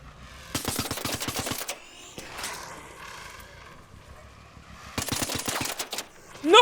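Automatic gunfire from the video game ARC Raiders rattles in two fast, close bursts separated by a quieter stretch of game ambience.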